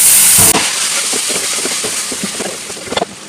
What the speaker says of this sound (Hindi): अब मैं थोड़ा पानी का छींटा दूँगी।